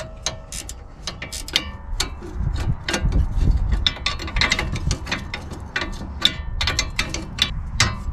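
A ratchet wrench loosens the sway bar link nut on a fifth-generation 2011-2019 Ford Explorer, giving rapid, loud, close metallic clicking in steady runs with a low mechanical rumble underneath and no speech.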